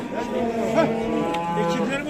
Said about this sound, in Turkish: bunlar da inekler